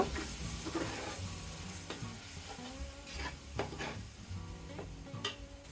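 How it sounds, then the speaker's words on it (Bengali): Ginger garlic paste fries in a pan for chicken biryani, with a steady soft sizzle broken by several scraping stirs of a spoon against the pan, no talking. "আদা রসুন বাটা কিছুক্ষণ আমি ভেজে নেব"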